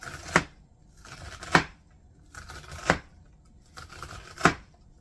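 A kitchen knife dices onions on a cutting board for taco soup: four sharp, separate chops spaced roughly a second apart, close and fairly loud against a quiet room with faint background murmur.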